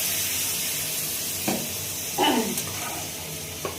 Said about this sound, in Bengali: তো এরপর একটু জল দিয়ে কষাচ্ছে, ভালো করে কিন্তু কষিয়ে নিতে হবে।